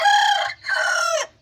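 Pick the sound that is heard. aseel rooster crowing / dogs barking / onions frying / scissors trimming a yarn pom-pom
aseel rooster crowing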